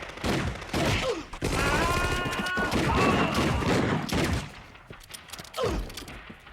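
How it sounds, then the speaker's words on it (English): A stylized gun-fu shootout in the 1995 action film Crying Freeman, with loud, dense gunfire and sharp bursts of shots over a sustained soundtrack backdrop, ending in scattered single blasts. "it also has this scene with some weird gun-fu type of shooting"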